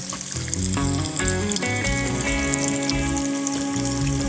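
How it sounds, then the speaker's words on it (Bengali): Beef shami kababs shallow-frying in hot oil, a loud close sizzle with bubbling crackles and occasional spatters throughout. "আমি এভাবে ভেজে নিচ্ছি"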